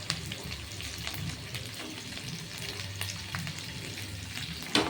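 Cauliflower fries with onion and green chili in a pan for a Navaratna curry, giving a steady close sizzle broken by scraping stirring strokes and a louder clatter at the end.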